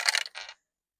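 A die is tossed onto a hard surface, giving a short clatter of two or three quick bright clicks as it rolls and settles, then silence.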